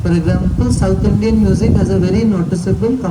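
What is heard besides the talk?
None of the usual background noises is heard.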